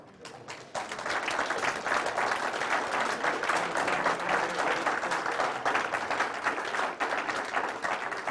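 Conference audience applause, a sustained wash of many hands clapping that starts abruptly after a brief quiet moment and continues evenly to the end.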